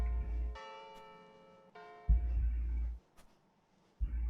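A video game bell rings out in clear, sustained tones, two separate strikes that each fade slowly, with low rumbling game noise between them.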